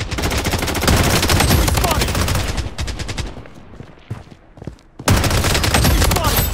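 Heavy gunfire in the shooter game BloodStrike, with dense rapid bursts, a short lull of scattered shots and sparse thuds, then a loud fresh volley. Game voice callouts are heard over it.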